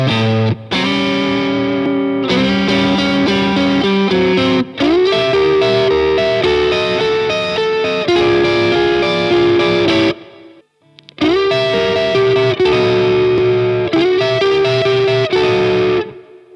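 Electric guitar played through a Tube Screamer overdrive pedal, with sustained distorted chords and notes ringing loudly, a brief break near the middle, then more crunchy overdriven playing.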